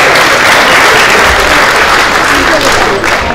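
Loud, close audience applause at an Urdu poetry and ghazal gathering, a thick continuous wash of many hands clapping for the stage, steady throughout with no pause.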